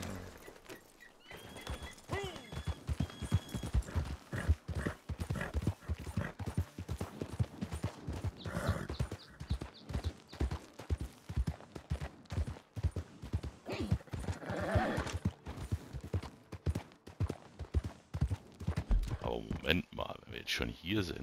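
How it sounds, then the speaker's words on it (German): In the video game Red Dead Redemption 2 Online, hooves clip-clop steadily in a rapid rhythm, with a brief horse whinny early on and a voice talking intermittently over the hoofbeats. "Aber da ist ja erstmal das Pferd."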